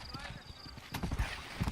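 Horse hooves clip-clop in Red Dead Redemption, with uneven thuds building toward the end and a person talking over the game sound.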